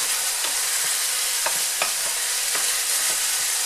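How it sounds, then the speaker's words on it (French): A sauce for a French take on carbonara is stirred in a frying pan, making a constant bright sizzle with gentle utensil scrapes every half second or so, close and steady. "Et je remue légèrement"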